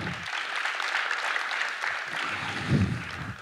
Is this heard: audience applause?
yes